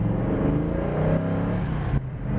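A 1967 Ford Mustang's 390 V8 revs at half throttle with a deep, rumbling roar, its pitch rising briefly and then dropping off near the end, loud and close.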